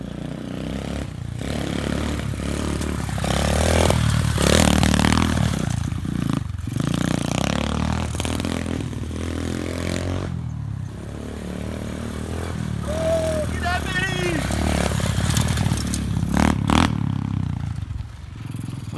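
An SSR 125 pit bike engine catches after a bump start and runs loud and close, revving and rattling steadily with brief rises in pitch and a short voice near the end.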